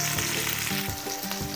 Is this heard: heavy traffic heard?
no